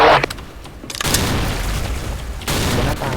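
A loud, booming grenade explosion in a video game hits with a deep rumble, followed by a second heavy blast as the rumbling continues throughout.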